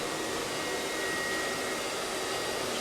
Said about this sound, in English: so we're softly drying it each time